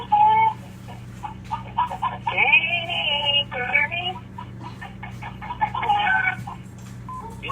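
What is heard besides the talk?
chickens clucking in a chicken coop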